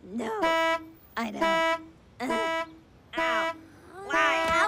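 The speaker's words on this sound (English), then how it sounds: "How about we take a break from the honking and play some tunes?" A cartoon car horn honks in four or five evenly spaced, fairly loud toots, each a bright tone lasting under a second, alone without talking.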